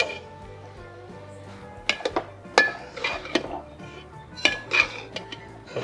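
A spoon mixes cabbage fry with coriander powder in a pan, producing repeated close metallic clinks and scrapes against the cookware in irregular bursts, with no voices.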